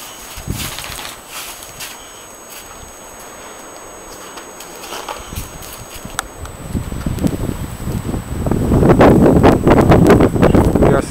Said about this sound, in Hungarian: Fúja szél rendesen.